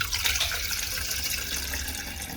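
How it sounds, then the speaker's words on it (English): Filtered water poured into the bottom of a NutriBullet immersion blender cup, a steady splashing, gurgling stream that is close and fairly loud, lasting a couple of seconds. "I'm going to start with a little bit of filtered water in the bottom."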